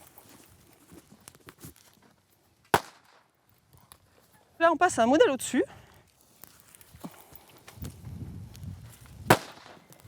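Sharp, loud cracks from small explosions set off near a horse go off a few seconds apart, followed by a hiss and rumble; a person speaks briefly between the bangs.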